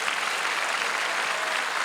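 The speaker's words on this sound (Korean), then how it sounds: "먼저 하나님과 우리 주 예수 그리스도에게 감사의 박수를 보냅시다." Congregation at a church prayer rally at the Yongsan War Memorial in Seoul clapping in thanks, a brief, even wash of many hands clapping at moderate level, with no voices over it.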